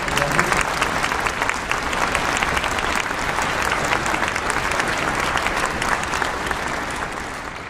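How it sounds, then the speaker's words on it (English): Concert audience applauding steadily for a youth symphony orchestra, a dense, sustained wash of many hands clapping at full volume throughout, with no speech. "Can we get one more round of applause for our family?"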